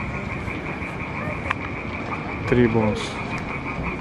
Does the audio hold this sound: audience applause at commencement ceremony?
no